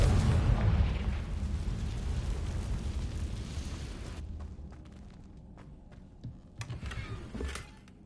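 A Confringo blasting spell explodes in Hogwarts Legacy, a loud booming blast that rumbles and slowly fades over several seconds, followed by scattered lighter crackles and pops.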